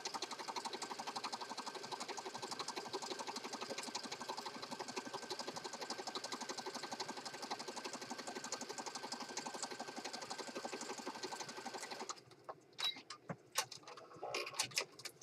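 A sewing machine stitches a strip down onto a teal autumn junk journal page in rapid, even mechanical ticking for about twelve seconds, then stops, leaving a few faint handling clicks and taps.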